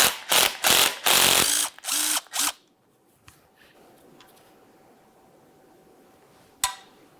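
A 14mm ratchet loosens the strut center mounting nut on a 2006-2012 Ford Fusion front shock, giving several quick, close bursts of rapid clicking. Quiet follows, broken near the end by one sharp click.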